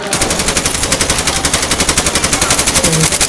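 Rapid automatic gunfire from the Call of Duty Mobile video game, a dense, steady stream of shots hammering on without pause, loud and close throughout.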